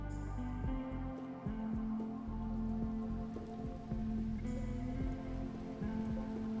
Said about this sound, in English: and now it rains